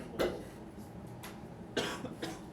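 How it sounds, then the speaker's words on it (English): A person coughs several times in a quiet room, two sharp close coughs followed by lighter ones, short bursts separated by near silence. "a little bit of a cough."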